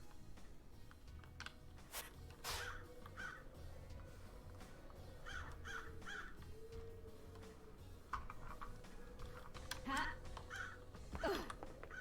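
Crows caw in the video game Paradise Killer, several harsh calls scattered across the scene at moderate distance over a steady low ambient hum, with occasional soft clicks.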